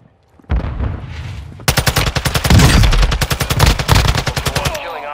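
Rapid automatic gunfire in a video game firefight, a loud close burst of evenly spaced rounds that runs for several seconds after a duller opening rumble.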